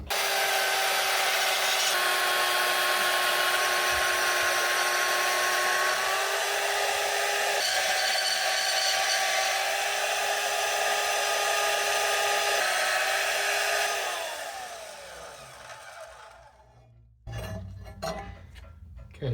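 A power tool cuts a shape out of 3/16 steel plate in a shop, a loud, steady, high-pitched grinding whine that holds for about fifteen seconds, then winds down and stops, followed by a few faint clanks.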